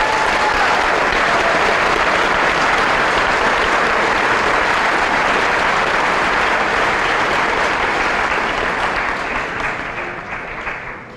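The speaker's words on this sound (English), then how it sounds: "Please give all the teachers a round of applause." A graduation audience applauds the teachers with a loud, dense, sustained wash of clapping from many hands that holds steady for about ten seconds before gradually tapering off at the end.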